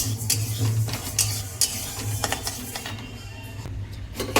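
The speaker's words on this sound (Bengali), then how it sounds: "কড়াই আমার বসিয়ে দিয়েছি আর ডালটাকে ভেজে নেবো আগে ডালটা ভেজে নিই" Dry lentils (dal) being fried in a kadai, scraped and stirred with a steady run of gritty scratches and soft sizzle over a constant low hum, close and moderately loud with no talk.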